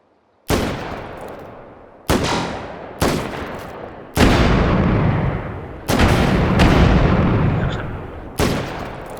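Loud individual gunshots from a pistol in the H3VR virtual reality game sound one by one, six or seven in all at irregular one-to-two-second gaps, each sharp crack followed by a decaying echo.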